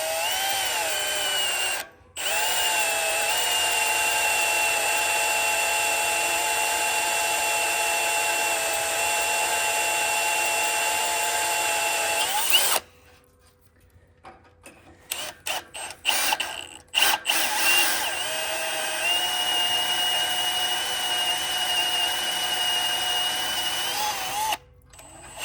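A power drill boring into the pivot of a Bobcat skid steer grapple skeleton bucket, a loud steady high-pitched whine that runs long, stops with clicks and rattles, then spins up again, close and without talk.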